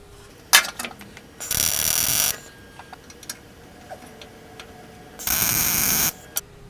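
Two bursts of welding on top of an aftermarket part, each about a second long, sound as a steady crackling buzz. Short clicks and taps from the work sit in the quiet between the bursts.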